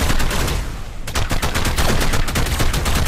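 Rapid gunfire in the video game ARK on PS5, a dense continuous volley of loud close shots lasting the whole clip with no talk.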